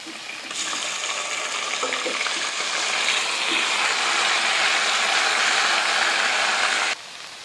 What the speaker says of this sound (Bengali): তো এখানে আমরা জাস্ট পেঁয়াজ আর গরম মশলা দিয়ে ভেজে নিব, এরপর ম্যারিনেটেড বিফগুলো আমরা দিয়ে দিব এখানে।